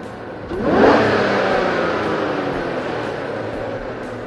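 Car engine fitted with an Edelbrock E-Force supercharger cranks and catches, then revs up with a rising whir before settling into a steady idle, loud and close with no talking.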